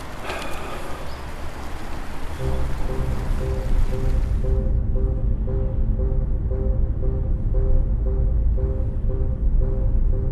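Flowing river water near Toledo rushes in a steady, dense wash, preceded by a brief burst of mixed noise before settling into a continuous close roar.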